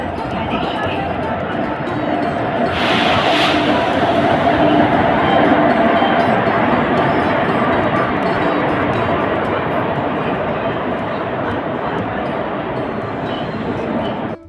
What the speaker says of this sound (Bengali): প্ল্যাটফর্মে চলে এসেছে আমাদের ট্রেন